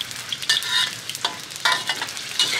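Beetles deep-frying in hot oil until crispy, bright crackling sizzle with repeated louder bursts of bubbling and stirring at irregular intervals, close and fairly loud.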